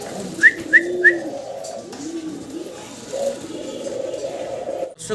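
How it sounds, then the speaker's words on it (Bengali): Pied racer pigeons coo softly in low, rolling murmurs that continue through the clip, with a few short high chirps near the start. "খুব সুন্দর এক জোড়া পাইট ড্রেসার কবুতর আপনারা দেখতে পারতেছেন"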